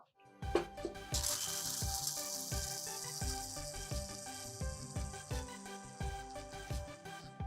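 A kitchen mixer grinder whirs loudly, pulverizing roasted pistachios into powder, a harsh, hissing buzz that starts after a moment and holds steady for several seconds up close.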